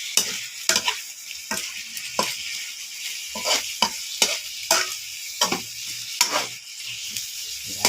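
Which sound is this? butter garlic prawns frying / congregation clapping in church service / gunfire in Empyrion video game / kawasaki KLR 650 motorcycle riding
butter garlic prawns frying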